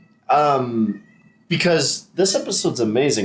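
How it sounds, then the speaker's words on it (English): A house cat meows in the background while a person talks over it, with short meow calls that rise and fall under and between the spoken phrases. "If you guys hear meowing in the background,"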